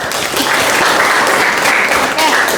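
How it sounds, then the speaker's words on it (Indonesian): A classroom of students in a university lecture applauds a classmate, a steady, dense clapping wash that fills the whole stretch at fairly loud level, with some voices mixed underneath. "Tepuk tangan untuk temannya."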